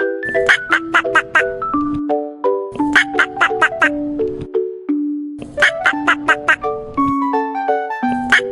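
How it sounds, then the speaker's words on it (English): A duck gives bursts of quick, rapid quacks in three or four clusters, close and clear, over a bright chiming melody that plays underneath. "Duck. Con vịt."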